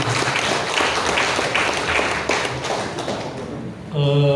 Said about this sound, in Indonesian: Tepuk tangan untuk beliau sekalian.